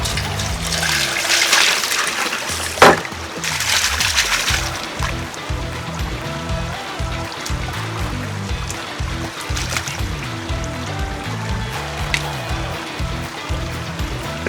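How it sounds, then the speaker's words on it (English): Water splashing and sloshing into a gold pan holding a bucket's worth of concentrated heavy dirt, a sharp splash early on, then repeated swirling, trickling washes, close up with no talk. "Splash a little water into here."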